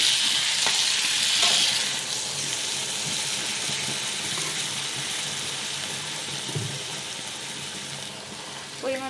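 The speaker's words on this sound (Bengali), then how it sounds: "এর মধ্যে আমরা মশলা করে রাখা জলটা দিয়ে দিব।" Spiced water poured into a pan of frying ridge gourd, potato and melted tomato, a bright hissing sizzle and splash at first that eases into a steadier simmering crackle, no talk.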